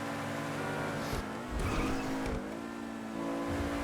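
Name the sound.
Ubermacht SC1 car engine in GTA Online video game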